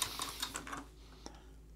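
Quick bursts of keystrokes on a computer keyboard while entering text for vinyl lettering in CorelDRAW, a rapid run of clicks fading to a single tap, faint and close.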